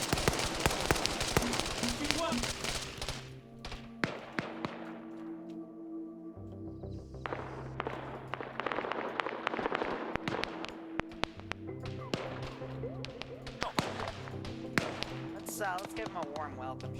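Gunfire in a tactical military video game, bursts of sharp rapid shots and cracks in clusters, fairly loud, with a low rumbling background between volleys.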